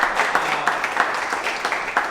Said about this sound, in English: a round of applause to the teachers as well